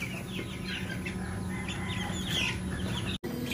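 Young meat-type chicks peeping and clucking in a dense chorus near a brooding box during a move to a grow-out pen, under a steady background hum, with a brief dropout near the end.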